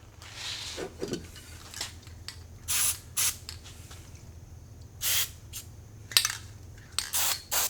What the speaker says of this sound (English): maybe we can apply a little bit of lubricant to the underside here